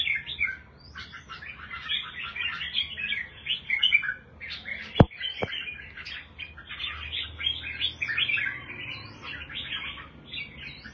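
A pet bird chirps busily and near, quick high tweets and trills crowding together almost without pause, with two sharp clicks partway through.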